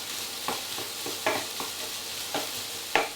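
Vegetables and garlic fry quietly in a pan, a soft steady sizzle broken by several sharp scraping stirs spaced through the moment, close up with no voices.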